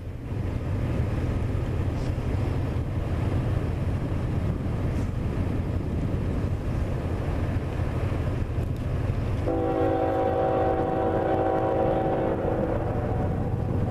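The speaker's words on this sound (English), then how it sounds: "this is my last train for today. Jivo in front for a northbound." CN freight train Q119 approaching on a northbound run north of Conrath, a steady rumble under wind noise, then a sustained horn blast from the distance about two-thirds through.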